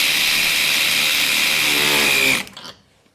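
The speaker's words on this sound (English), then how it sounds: "this ratchet, 3/8 of an inch here, so I'm using the deep well sockets, but pulls them down, no issue" A Husky 12-volt 3/8-inch cordless ratchet drives a deep well socket into pine with a loud, steady high-pitched motor whine that winds down and stops abruptly near the end.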